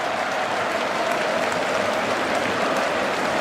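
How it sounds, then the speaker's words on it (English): Cricket crowd at Headingley during a 2019 Ashes Test applauding and cheering, a broad, even roar of clapping and voices from a large stadium audience, sustained and distant-sounding throughout. "The whole crowd on their feet. He waves to them, they cheer back."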